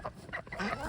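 A hen clucks softly a few times in quick succession, faint and close.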